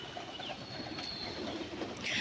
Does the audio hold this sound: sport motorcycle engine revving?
no